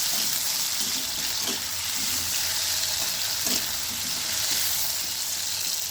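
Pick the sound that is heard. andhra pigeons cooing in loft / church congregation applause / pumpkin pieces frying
pumpkin pieces frying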